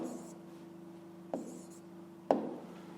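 A pen scratches out math notes by hand in a quiet room, soft continuous scribbling with a low steady hum, punctuated by two sharp taps.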